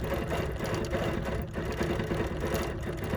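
A BERNINA sewing machine stitches continuously at a steady speed, a close, even mechanical whir lasting a few seconds with no talking.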